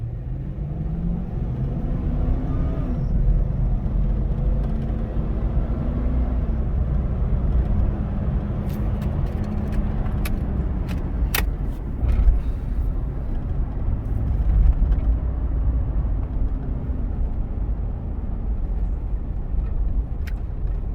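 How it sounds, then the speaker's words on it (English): Steady road rumble and engine drone from a Toyota 4Runner Sport Edition 4WD V8 driving at speed, a continuous loud hum with no whine from the wheel bearings, heard from inside the vehicle. "Sounds like a 4Runner with no wheel bearing issues"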